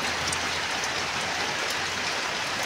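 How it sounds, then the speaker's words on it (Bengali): Heavy rain pours down steadily, a dense, constant hiss of drops hitting surfaces with no other sounds. "অঝরে বৃষ্টি হয়ে"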